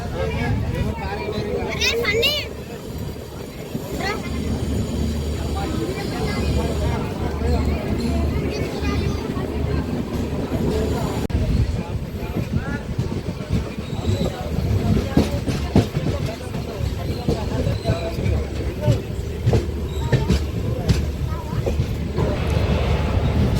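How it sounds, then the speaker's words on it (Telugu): Golconda Express running between Warangal and Kazipet, heard from inside an unreserved coach: a steady low rumble and rattle carries throughout, with people talking and children's voices mixed in over it. "మన ట్రైన్ అయితే స్టార్ట్ అయిపోయింది వరంగల్ రైల్వే స్టేషన్ నుండి"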